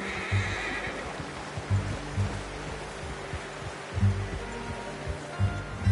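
Horse neighing in Red Dead Redemption 2, a Wild West game. Short whinnies recur against a low rumbling ambience, with occasional hoof-like thumps and no talk.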